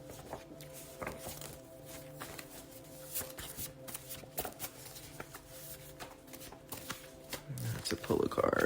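Tarot cards riffled and shuffled by hand in a steady, soft pattering rhythm beneath quiet background tones, growing louder and busier toward the end.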